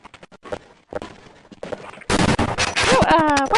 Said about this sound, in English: Oh, why'd you shoot?